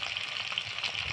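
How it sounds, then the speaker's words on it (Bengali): Potatoes fry in hot oil in a pan, an even, close sizzle with a bubbling hiss and no talk. "আলুগুলোকে ভেজে নিচ্ছি ভালো করে।"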